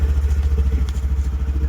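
A Honda Activa scooter engine runs close by with a steady, low, rapid putter and even chugging pulses, with no voices over it.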